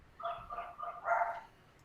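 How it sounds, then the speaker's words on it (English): Faint dogs bark in the background during a podcast, a quick run of three yips followed by one fuller bark, distant and soft with no talk over them. "There's dogs, by the way, Saber Bark, Spark."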